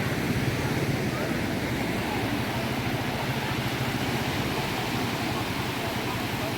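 Sea waves at Ras El Bar beach on the Egyptian coast, a steady, dense wash of surf filling the air, with wind adding a constant broad rush.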